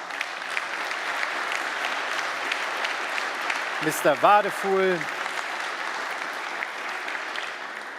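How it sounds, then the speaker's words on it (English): A conference audience at a Council of Europe anniversary event applauds steadily, the clapping sustained throughout, while a speaker briefly talks over it midway. "So great applause."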